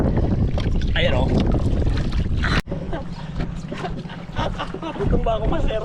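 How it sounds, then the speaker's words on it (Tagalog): Cold northeast monsoon wind buffets a small fishing boat at sea, a loud gusty rumble on the microphone with water noise and a sharp knock partway through, while people talk over it. "Hanging amihan."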